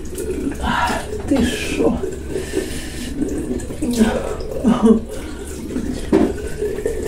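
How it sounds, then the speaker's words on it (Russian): Tap water runs and splashes while an alum face mask is rinsed off the face, a close, uneven spatter that rises and falls beneath a person talking. "Не люблю смывать эти квасцы."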